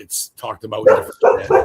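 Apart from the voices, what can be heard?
dog barking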